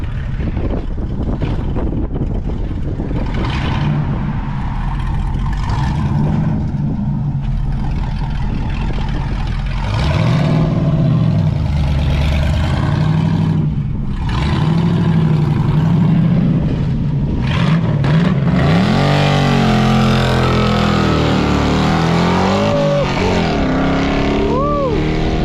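Carbureted car engine fitted with a 750 double pumper carburetor, revving hard and loud up close, with repeated throttle blips rising and falling and a steady idle rumble between them.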